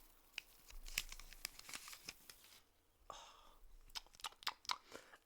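Crisp tearing and crinkling of a Moroccan Flash chewing gum wrapper, quiet close-up rips and paper rustles in short bursts, with a longer tear midway and no talking.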